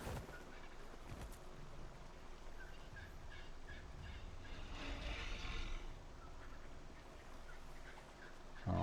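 A parasaur dinosaur call from ARK Survival Ascended sounds faint and distant, a short series of gobbling, honking bursts over a steady background of game ambience.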